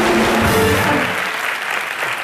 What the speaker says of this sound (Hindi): हमारी हेमा जी के लिए एक बार जोरदार तालियां